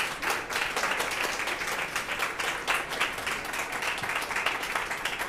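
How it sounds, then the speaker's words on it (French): A conference audience applauds after a masterclass talk on collaborative learning, dense steady clapping from many hands that holds at an even level throughout, with no talk over it. "Je pense qu'on peut les applaudir."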